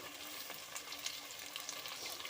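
Potatoes, carrots, beans, capsicum and green chillies for veg biryani sizzle steadily in a pan, a constant crackling hiss with occasional stirring scrapes, quiet and close with no voices.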